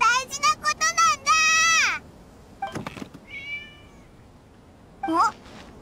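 A cat meows in Genshin Impact, a burst of high, wavering cries followed by quieter calls and one last short meow near the end, heard alone without talk.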